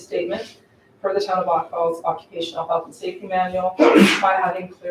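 A single loud sneeze bursts out near the end, cutting across a council member reading a safety policy statement aloud at a town council meeting.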